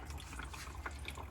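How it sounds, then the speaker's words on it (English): Water runs steadily from a hand-pumped tap in a campervan fitted with a BOXIO unit, a continuous close splashing flow with no talk. "you pump that, and you got running water"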